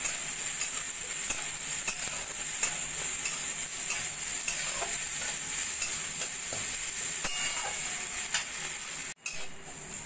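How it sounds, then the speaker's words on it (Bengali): Onion, paneer, chopped green chillies, salt and ground coriander fry in a pan, a steady close sizzle running throughout with occasional faint stirring clicks and a brief break near the end. "দিয়ে একটু ভাজা ভাজা করে নেব।"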